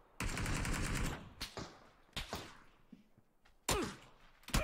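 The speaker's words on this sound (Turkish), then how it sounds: "O arkadan vuruyorum." Shooter video game gunfire: a long, loud automatic burst, then several separate short shots and bursts, all close and punchy with brief quiet gaps.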